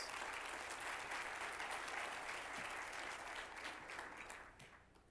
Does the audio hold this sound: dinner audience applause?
yes